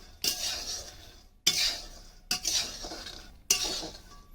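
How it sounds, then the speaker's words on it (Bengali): Peanuts are roasted in a pan for a khichuri offering, with four distinct bursts of scraping and stirring separated by short pauses and no voices. "খিচুড়ি প্রসাদের জন্য বাদাম ভাজতেছি"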